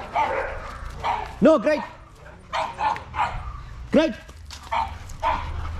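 A dog refusing a crate command barks in a few sharp, close bursts, with a voice repeatedly speaking over and between the barks.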